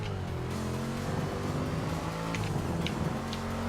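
Engine of a Mustang drift car in Forza Motorsport 6, a fairly quiet, steady droning hum with faint tire squeals, heard in game.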